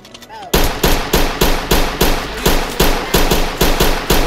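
Rapid video game gunfire, loud and close, with about fourteen sharp shots in an even automatic rhythm after a brief quiet start.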